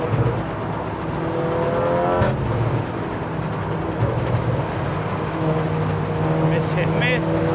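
A 500 BHP track-spec MK7 Golf R laps the Nürburgring, its engine droning loud and steady with rising rev sweeps and gear changes, tyre and wind roar filling the cabin throughout.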